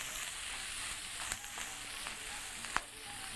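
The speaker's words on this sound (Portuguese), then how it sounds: "Deixa ela dar refogada, dar uma agarrada no fundo da panela." Pieces of beef rib meat sizzle and sear in a hot pan for a Brazilian ragù, a steady dense frying hiss with occasional small pops and clicks, close and continuous without talk.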